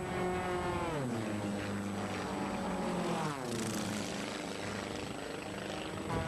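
Propeller drone of Formula V racing airplanes flying low in a close air race at Albuquerque, a sustained buzzing whine with pitch sweeps as aircraft dive past, steady and fairly loud.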